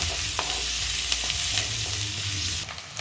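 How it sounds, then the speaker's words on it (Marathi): Onion sautés in a hot pan with a dense, steady sizzle and occasional light stirring scrapes, close and continuous, easing slightly near the end. "आता कांदा टाकून घेऊ कांद्यामुळं भारी छान लागते तर छान परतून घ्यायचा कांदा"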